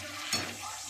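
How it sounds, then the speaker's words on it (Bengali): Paneer frying in a pan for fried rice, a steady close sizzle with a brief louder stir or clatter near the start and a low hum underneath. "এই পনির রান্না হচ্ছে"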